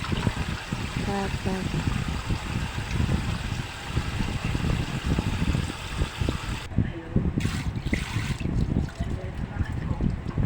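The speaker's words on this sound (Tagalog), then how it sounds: "Mangugas to siya kamot kay Philip." Water running from a tap as a young boy washes his hands at night, a steady trickling wash heard close under a voice and nearby talk, with clinks and small knocks throughout.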